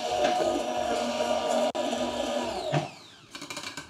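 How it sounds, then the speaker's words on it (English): A stick blender whirs steadily at high speed, frothing a cold coffee cocktail in a home bar setting, with a brief cut-out midway and the motor winding down near the end. "using a stick blender for efficiency and to get that really nice fluffiness"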